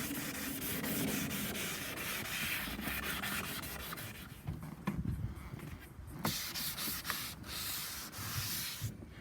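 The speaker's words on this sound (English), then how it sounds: "I'm just sanding it for the last step with the last the fine one" Rhythmic scratchy rubbing of fine sandpaper on wooden Rover P4 window frames and dashboard, strokes repeating close by, steady at first then more irregular with a few sharp knocks.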